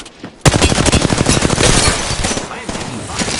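Sustained loud automatic gunfire in a video game, rattling continuously for several seconds after a sharp onset as shots strike the player, with a voice faintly mixed in.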